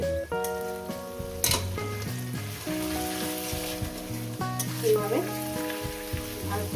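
Chicken pieces sizzle loudly in a pan with spices fried for a couple of minutes, with continuous frying crackle under repeated clanks and scrapes from stirring with a metal utensil. No voices are heard.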